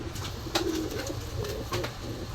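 Pakistani high-flyer pigeons coo at a shop: a steady run of low, soft cooing notes from several birds close by, over a constant murmur of background noise with a few brighter clicks.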